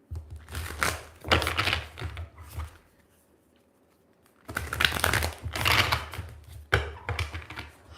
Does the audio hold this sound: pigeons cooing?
no